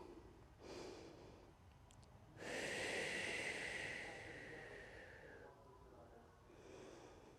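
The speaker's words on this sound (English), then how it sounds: "Take a deep breath here." A deep breath is taken during a yoga flexibility stretch: a short inhale, then a long, close, audible exhale that fades out, with a softer breath following.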